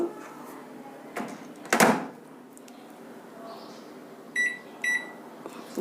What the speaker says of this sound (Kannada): ಈಗ ಓವನ್ ರೆಗ್ಯುಲರ್ ಮೈಕ್ರೋ ಮೋಡಲ್ಲಿದೆ ಒಳಗೆ ಒಳಗಿಟ್ಬಿಟ್ಟು